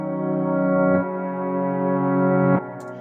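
Reversed piano chords in a music production beat swell up gradually and cut off abruptly, two chords in a row, close and clean with no talk.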